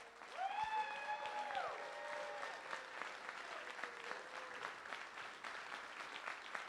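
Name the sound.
applause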